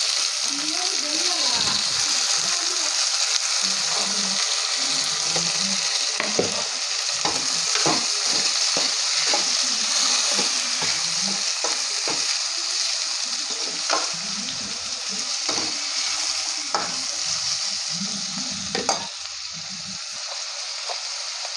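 Onion and tomato sizzle in a pan and are stirred now and then, with a steady close frying hiss and scattered scraping stirs while someone talks over it.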